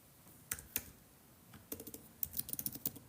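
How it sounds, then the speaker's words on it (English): Keys tapped on a computer keyboard, a few isolated clicks followed by a quicker burst of uneven typing, close and fairly quiet in a still room. "I'm just typing in your information"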